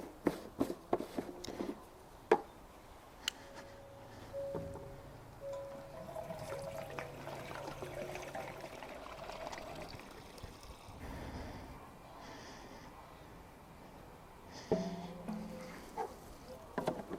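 Petrol pours into the fuel tank of a Stiga Park 120 ride-on mower, a steady liquid trickle and gurgle lasting several seconds, with handling clunks at the start and end, fairly quiet and close.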